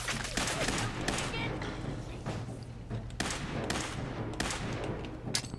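Rapid bursts of Fallout 4 video game gunfire crackle repeatedly over a low background hum, fairly faint and evenly spread throughout.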